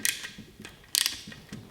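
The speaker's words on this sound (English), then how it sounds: "We've got a 12mm 12-point socket, and let's see what happens." A 12mm 12-point socket wrench works on the engine head of a 1981 Yamaha YZ250 two-stroke, giving a few close metallic ratcheting clicks and clanks in short uneven bursts.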